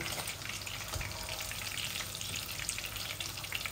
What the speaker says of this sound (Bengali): এই দেখুন আমি তেলটা ভালো করে করছি।